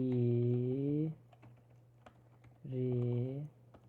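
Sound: typing on a computer keyboard

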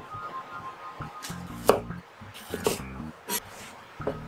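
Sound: cutting an onion in half with a knife

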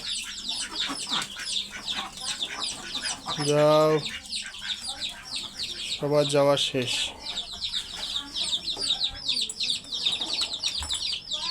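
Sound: layer hens clucking and squawking

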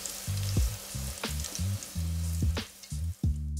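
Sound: garlic and chili sizzling in hot oil

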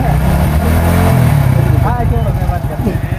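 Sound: motorcycle engine

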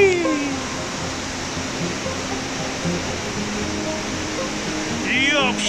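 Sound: waterfall

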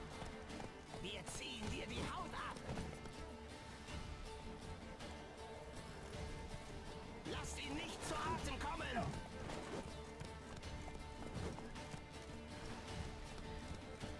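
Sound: horse hooves in combat, video game The Witcher 3

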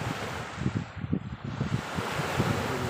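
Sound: wind at the seaside

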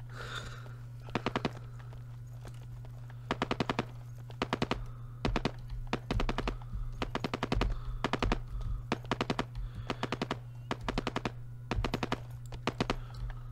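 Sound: gunfire in the video game Ground Branch

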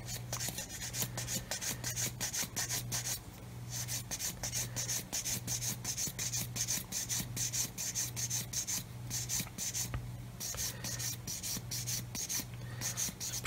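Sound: sanding model tank part with hard sanding stick

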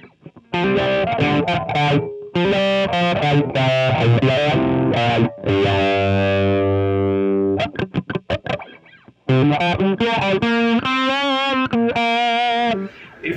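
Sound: electric guitar through Morley Wah ProSeries II pedal, last position

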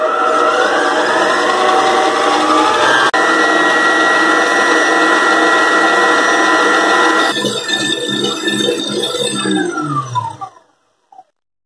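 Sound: stand mixer beating sponge cake batter at high speed

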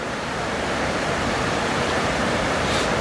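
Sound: tidal water flowing at Maristow Creek

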